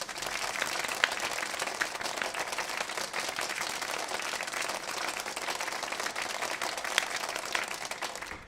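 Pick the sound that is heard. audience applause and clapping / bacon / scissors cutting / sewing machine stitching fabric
audience applause and clapping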